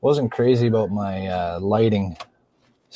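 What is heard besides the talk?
None of the usual background noises is heard.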